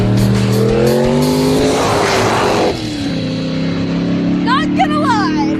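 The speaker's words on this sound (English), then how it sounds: "Randy starting from a dead stop, launching and going through the gears" A hot rod with blown-out cherry bomb mufflers launches from a dead stop, its engine revving hard through several gear changes with a brief tire squeal, loud and close, as people talk over it.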